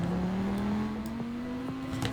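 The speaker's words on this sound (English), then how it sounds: "rev it all the way up" A five-cylinder car engine in the Roblox game Greenville, revved in sport mode with a steady rising whine that climbs smoothly in pitch, loud and close, heard alone.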